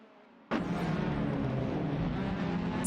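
Race cars on a track in the video game Assetto Corsa, a loud sustained engine roar that bursts in abruptly and holds steady with a dense, rumbling drone.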